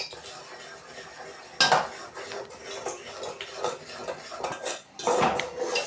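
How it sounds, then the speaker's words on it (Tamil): A metal spoon stirs gram flour Mysore Pak mixture in a pan, with repeated scraping and clinking against the pan, several louder clanks, and a faint sizzle underneath, close up and without voices. "கடல மாவு போட்டு இதே மாதிரி கிண்டுறோம்."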